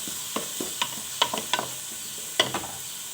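Chopped onion frying in a pan as the base for a seafood paella, with a soft steady sizzle and a few sharp crackles and pops breaking through at irregular moments, no voices.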